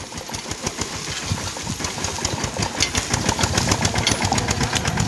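A tractor engine runs on a farm during millet work, a rough pulsing chug loud and close, with rhythmic knocking that grows slightly stronger toward the end, no talk.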